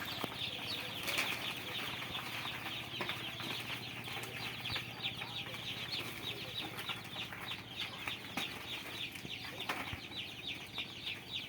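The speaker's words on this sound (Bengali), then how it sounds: "এই মুরগি বাচ্চাগুলো ছাড়া হচ্ছে।" Desi chicken chicks are let out onto newspaper spread over a brooding pen floor, and a dense chorus of high, continuous peeping fills the scene along with light scuffling and fluttering.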